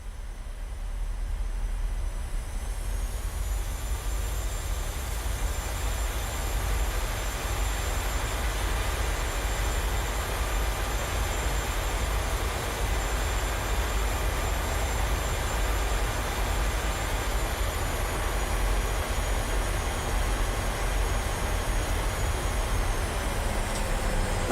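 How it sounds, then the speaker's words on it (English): A simulated aircraft engine in Microsoft Flight Simulator 2020 spools up while taxiing, a steady loud whine and drone that rises in pitch early on, then holds evenly for the rest of the stretch. "Spooling the engine up."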